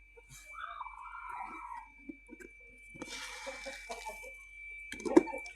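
Hens clucking at close range on a farm, a few scattered clucks and short calls with quiet gaps between them, one louder call near the end.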